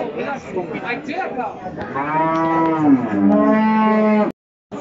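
A dairy cow at a livestock market in Bokhtar, Tajikistan, moos loudly and close by, one long drawn-out low call after some rougher lowing, then it stops abruptly.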